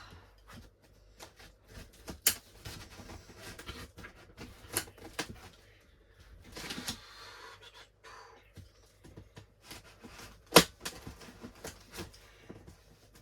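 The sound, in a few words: cutting open a cardboard parcel down the middle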